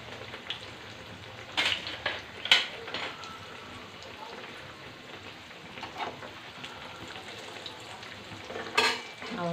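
A sausage mughlai paratha fries in a pan with a soft, continuous crackling sizzle, broken by a few sharper clatters of the pan and utensil, with occasional background voices.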